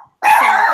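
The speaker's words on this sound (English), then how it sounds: "That's my dog." A pet dog barks once, close and loud, in a single sustained bark that follows a short spoken word and a brief silence.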